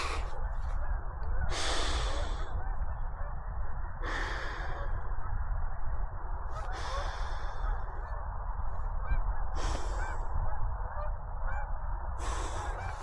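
Repeated honking calls from a flock of Canada geese flying overhead, recurring every couple of seconds over a steady wind-like background rumble.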